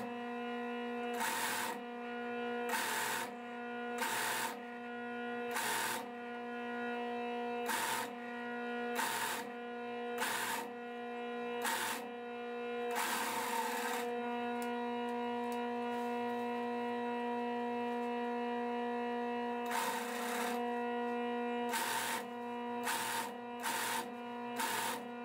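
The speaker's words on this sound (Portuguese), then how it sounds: "aqui eu vou estar usando esse velcro largo, eu vou estar costurando ele assim" A sewing machine stitching folded wide velcro, a steady whirring hum broken by repeated short louder bursts of stitching, close and moderately quiet, with no speech.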